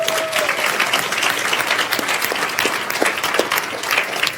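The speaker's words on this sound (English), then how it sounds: "round of applause" Sustained round of applause from a large festival audience at a science event on stage, dense steady clapping throughout with a few sharper individual claps standing out near the end.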